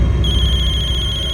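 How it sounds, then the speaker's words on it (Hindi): An electronic telephone ring trills in a rapid, steady pulse, loud and close, over a dense, noisy background. "खबरी का फोन है।"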